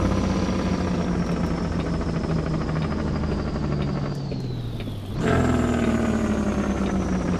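Mack R heavy truck engine in American Truck Simulator, a steady loud drone that sags and drops in pitch, cuts out briefly, then returns at a higher pitch as the transmission downshifts from 4-low to 3-low.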